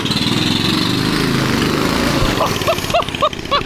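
A turbocharged limousine go-kart engine idles and warms up with a loud, rough, steady drone up close, joined near the end by a few sharp dog barks.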